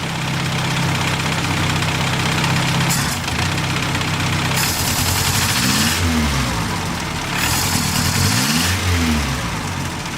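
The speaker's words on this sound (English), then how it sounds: "Rev it up a little bit." A Crosley car engine idles steadily, then is revved up in two rising-and-falling pulls, a loud, close mechanical drone that swells and drops back throughout.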